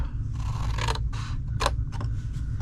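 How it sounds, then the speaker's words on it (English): Scissors cutting cardstock rectangles for a Valentine's fold-over treat box, several close crisp snips in quick succession over a steady low hum. "Now cut these 2 rectangles off."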